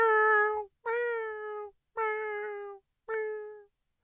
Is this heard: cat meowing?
yes